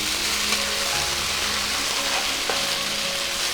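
Gongura (sorrel) greens sautéing in a hot pan, a steady close crackling sizzle with faint stirring, continuous and even throughout.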